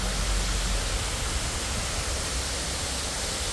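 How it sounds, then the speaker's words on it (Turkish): A waterfall in a city centre roars as a dense, constant wash of broadband noise, loud and close, with no voices over it. "Pınarbaşı'nın tam şehrin merkezinde böyle güzel bir şelale var."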